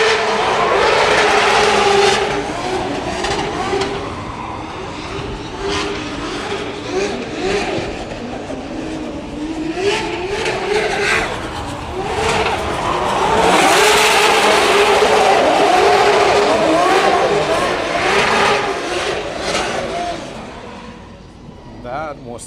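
Drift cars roar through practice at a Drift Masters event in Ireland, engines revving hard and screaming loud and close for a long sustained stretch, with rising and falling passes and a commentator talking over them.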